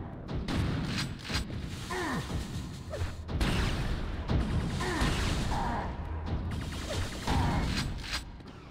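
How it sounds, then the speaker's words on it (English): A loud burst of Quake II sound effects: heavy mechanical clunks, creaks and crashing booms overlapping in a dense, continuous wash as all the lights go out. "I believe that was the sound of all the lights going out."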